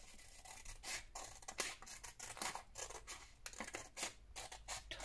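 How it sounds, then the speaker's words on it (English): Scissors snip tiny tags off the end of a vintage botanical paper file folder, making a quick series of close, crisp, faint cuts in an irregular rhythm. "And I'm also going to cut these"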